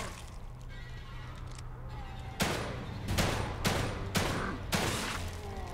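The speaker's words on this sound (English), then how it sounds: "Wow, that was some appalling shooting." Gunfire from the horror video game The Evil Within 2: a burst of sharp, loud shots at about one-second intervals, following a stretch of quieter in-game ambience.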